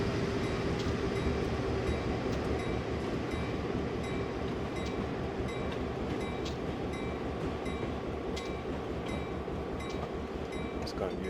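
A long freight train with a locomotive placed mid-train rumbles along in a railway simulation, a steady low drone with faint rhythmic clicks and occasional squeaks from the wagons, continuous throughout at moderate level.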